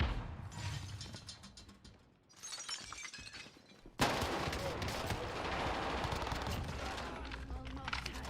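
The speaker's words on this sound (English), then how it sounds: "Stun grenade out." A stun grenade goes off in Call of Duty Warzone Resurgence, giving a sharp, loud burst at about four seconds. It leaves a dense ringing wash of game noise, with gunfire-like clatter and a voice heard beforehand.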